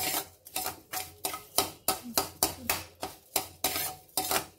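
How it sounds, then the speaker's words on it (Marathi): A spatula moves edible gum around in ghee in a metal pan as it puffs up for dink kheer. Rhythmic scraping strokes repeat steadily about every third of a second, close and clear, with no talk. "व्यवस्थित डिंक छान फुलेपर्यंत परतून घ्यायचा।"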